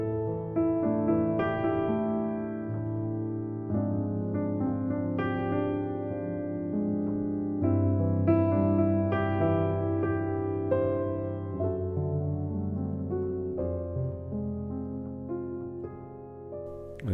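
A film music competition piece moves through a minor-key chord progression, sustained layered harmonies shifting every couple of seconds under a soft melodic line, full and steady throughout with no talking.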